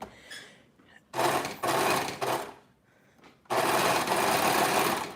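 Domestic sewing machine stitching fabric for an upcycled tiered mini skirt, running in two loud, steady bursts of rapid whirring separated by a quiet pause, close up with no talk.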